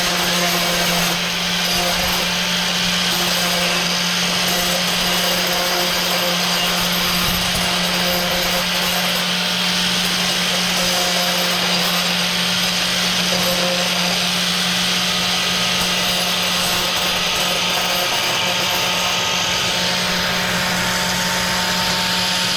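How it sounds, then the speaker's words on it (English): Worn-out grinding wheel grinding a part, a continuous loud whirring grind with a steady motor hum, unbroken throughout. "It's a damn grinding wheel, a wore out grinding wheel at that"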